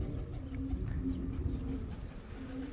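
Pigeons coo softly in a loft housing mixed birds, including red and yellow ones, with a low repeated cooing under steady background noise on a warm day.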